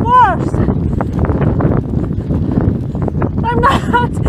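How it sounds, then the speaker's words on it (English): Strong Patagonian wind roars and buffets the microphone steadily throughout while a cyclist strains against it, with a voice speaking over the gusts. "This Patagonia wind is some force."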